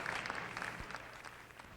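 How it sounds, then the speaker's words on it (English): An orchestra audience at a concert of works for solo oboe and orchestra applauds, a faint, distant wash of clapping that stays soft and even for a short moment. "they share with him in the applause which welcomes this beautiful addition to the repertoire for solo oboe and orchestra"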